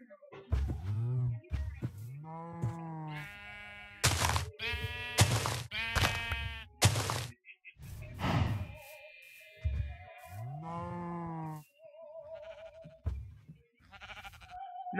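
Golden apple cows in a modded Minecraft survival game let out repeated drawn-out, wavering moos. The calls come one after another, loud and close, with a player talking quietly between them.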